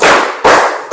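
Two loud, close group claps sound in a classroom, about half a second apart, each a sharp burst of many hands together.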